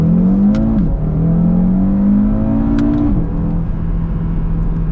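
A new Audi RS3 engine revs loudly and climbs in pitch, drops briefly at two gear shifts, then pulls steadily onward, heard from close by.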